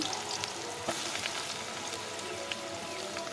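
Chopped onions fry in hot oil in a home kitchen, making a steady, close, crackling sizzle with scattered sharp pops and no talking.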